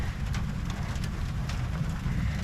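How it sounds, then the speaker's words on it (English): Steady rain falls outdoors beside a C10 pickup during ignition work: a dense, even hiss with scattered soft patters and drips, continuous and close, with no voices. "And it's raining on me."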